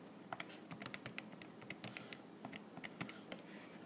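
Rapid irregular taps of calculator keys being pressed, crisp and close, a steady run of small clicks with slight pauses and no talking over them.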